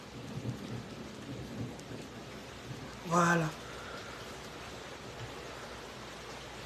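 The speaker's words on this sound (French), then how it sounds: "Il pleut grave, c'est trop grave" Heavy rain pours as a steady dense hiss throughout, with a short rumble of thunder in the middle; a voice speaks briefly over it.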